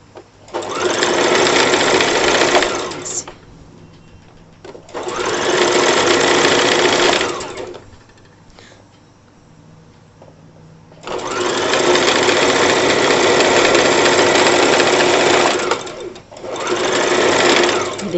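An electric sewing machine stitches a kurti seam along marked lines in loud close bursts of rapid whirring, with pauses between runs and no talk.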